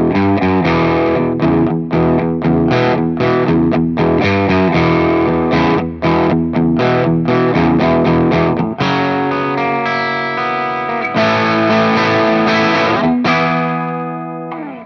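The riff from a song is played on a hollow-body guitar through an Orange amp profile, giving a loud, crunchy, overdriven tone. Chords are chopped in a bluesy rhythm and ring out near the end, with no talking.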